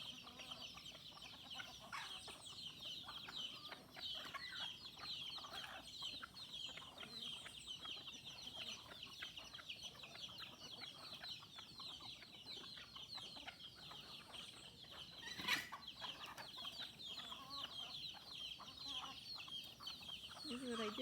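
Chickens fighting and clucking on a balcony: a faint, busy mix of clucks and squabbling squawks over steady background noise, with one sharper burst near the end.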